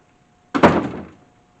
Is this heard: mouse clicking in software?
no